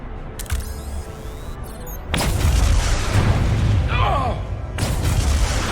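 A heavy detonation blast in the Star Trek Resurgence video game, with a loud sustained rumbling boom that swells after a brief lead-in and rolls on under game effects.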